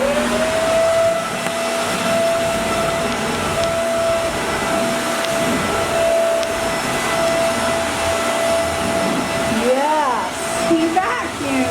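A household vacuum cleaner runs with a steady whine that holds through most of the stretch, then shifts pitch near the end as it moves about, close and fairly loud.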